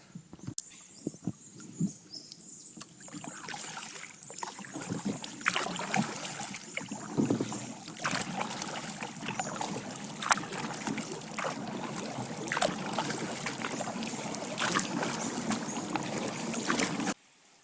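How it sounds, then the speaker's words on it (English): Close kayak paddling on Muddy Creek: repeated splashes and drips as the paddle dips into calm water, with soft knocks against the boat. "I will keep paddling"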